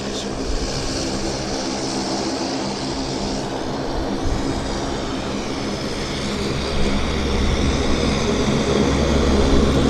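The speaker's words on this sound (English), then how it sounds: "We've got an Air Canada Max going to Montreal." Air Canada Boeing 737 Max jet on the runway at Vancouver airport, a loud continuous engine roar with broadband rumble that swells toward the end. Heard from outdoors nearby with a faint voice beneath.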